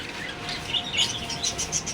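Many cockatiels of various colours chirp together at a bird market near a roadside in Nabagram, giving a steady, moderately loud wash of high-pitched tweets with no talk.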